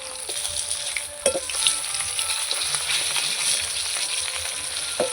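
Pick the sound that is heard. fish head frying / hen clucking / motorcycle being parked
fish head frying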